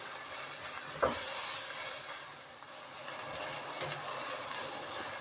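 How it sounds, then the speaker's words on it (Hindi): Minced meat (keema) frying in a pan with onion, garlic and ginger, a soft continuous sizzle with a single sharp clink of a utensil near the start, fairly quiet and steady throughout. "कीमे को हम अच्छे तरीके से भूनेंगे।"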